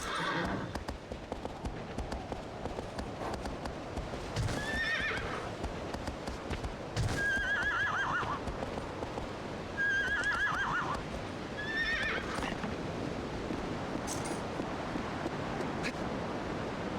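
In the video game Shadow of the Colossus, a horse gives several whinnies over steady galloping hoofbeats, with a wind-like wash running underneath throughout.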